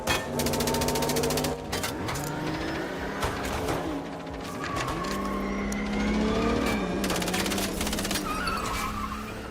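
A car in the video game MindsEye drives hard, its engine roaring steadily while tires squeal and skid through turns, loud and continuous throughout with game music beneath.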